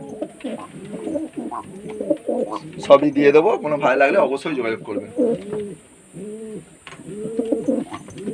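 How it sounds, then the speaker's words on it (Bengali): Several Madras pigeons coo repeatedly in soft, rolling calls nearby while someone talks over them. "এটা হচ্ছে ফুলসিরা ম্যাডাস পায়রা"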